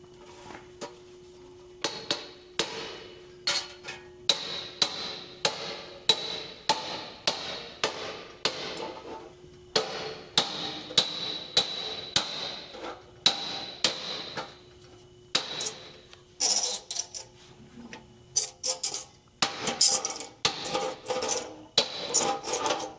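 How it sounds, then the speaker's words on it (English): Someone hammers on a plate at a radiator factory, striking in sharp, evenly paced metallic blows, with short pauses between runs and faster, denser strikes near the end. "when you are hammering, you hammer on top of the plate"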